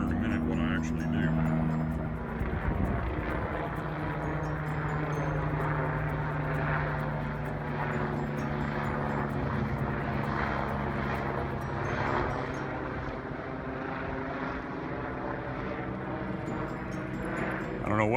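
A small propeller airplane circles overhead, its engine a steady, moderately loud drone that hums on without a break for the whole stretch.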